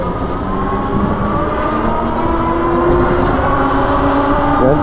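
A Coswheel T20S pedal-assist e-bike held at full throttle in its fifth power level, giving a loud, steady motor whine with a rising tone and constant rushing noise, alone without talk.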